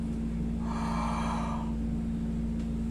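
Someone demonstrates a single breathy yawn while talking about an emergency locked jaw. It is one soft, drawn-out exhale lasting about a second, set over a steady low electrical hum.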